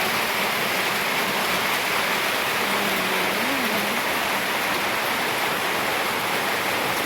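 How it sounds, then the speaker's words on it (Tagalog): Steady rain falling over a field outdoors, a dense unbroken hiss that stays loud and even throughout, with a faint low tone drifting briefly underneath. "Habang umuulan."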